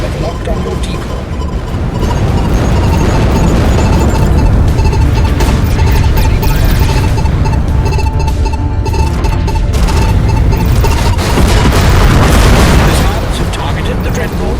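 Missiles explode against a dreadnought's sensor array in the space combat game Everspace 2, producing dense, continuous booms and blasts under a loud wash of game effects, with a voice speaking over the barrage.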